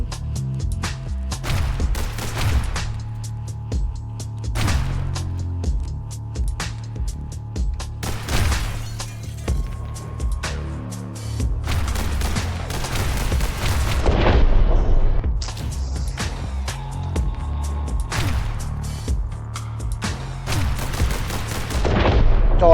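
Rapid gunfire bursts from the top-down shooter game Hong Kong Massacre, dense and loud shots layered over a throbbing low game soundtrack throughout.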